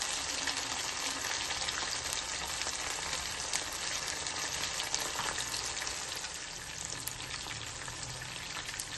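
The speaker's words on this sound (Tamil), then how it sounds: "ஃபர்ஸ்ட் ஆயில் நல்லா ஹீட் பண்ணிட்டு போட்டுட்டு அப்புறம் சிம் பண்ணிடணும்." Chicken lollipops fry in hot oil, a steady close crackling sizzle with fine popping that continues evenly throughout, with no talking.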